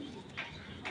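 Khaki pigeons, kept as pet birds for sale, give soft low cooing with a brief brighter call near the middle and end, quiet and close against faint background noise.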